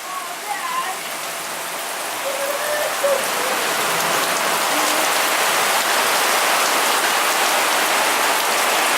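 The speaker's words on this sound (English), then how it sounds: "Wow. Look at that hail." Heavy hail and rain pound down steadily during a Seattle spring storm, a dense roar that swells and stays loud, with brief voices early on.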